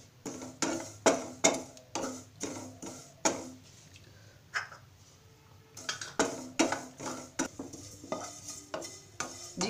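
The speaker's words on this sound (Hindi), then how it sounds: "अब इसमें हम जीरा भून लेते हैं।" Cumin seeds roast in a dry pan over a medium flame while a metal spoon stirs them, giving sharp rhythmic scrapes and clinks against the pan with a quiet pause in the middle and a faint sizzle beneath.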